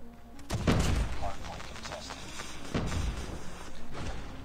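Bursts of PP submachine gun fire in Call of Duty Mobile, two rapid clusters of shots, fairly close and moderately loud, over a busy game background.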